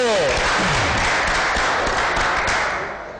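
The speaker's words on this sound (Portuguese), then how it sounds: "Vamos aplaudir, gente!" Audience applauding a poet at a round-table gathering, a dense sustained wash of many hands clapping that begins with a voice calling out, then fades slightly toward the end.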